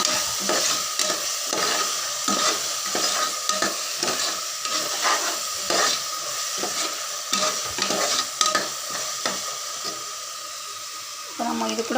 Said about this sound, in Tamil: கட் பண்ணி வச்சுருக்கிற புதினா மல்லி இலை இதையும் நல்லா சேர்த்துக்குங்க இப்போ இதையும் நல்லா சேர்த்து இதையும் நல்லா வணக்கி விட்டுக்கலாம்